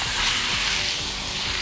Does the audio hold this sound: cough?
no